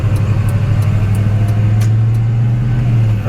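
An old Ford OBS pickup truck driving on the road, its engine a steady low rumble heard from inside the cab, with faint rhythmic clicks above a constant drone and no talking.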